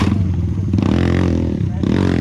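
A dirt bike's engine roars loud and steady with the throttle held wide open, a buzzing, high-revving drone close by that barely dips, with a brief exclamation mixed in.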